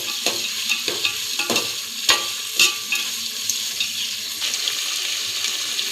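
Ragi vermicelli with curry leaves fries in oil under a steady sizzle, broken by repeated sharp scrapes and knocks of a spoon stirring the pan.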